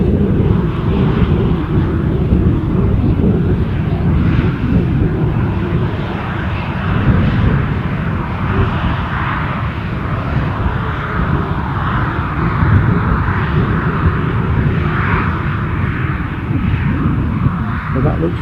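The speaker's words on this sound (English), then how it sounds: "So that looks very much like a Dreamliner at a distance." A Boeing 787 Dreamliner at Schiphol, heard as a steady, moderately loud jet rumble from a distance, with someone talking intermittently over it.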